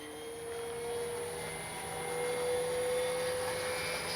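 A radio-controlled Focke-Wulf Ta-152H warbird model flies overhead with its retracts tucked away, a steady droning engine and propeller whine holding a constant pitch, swelling slightly louder toward the middle, with no one talking.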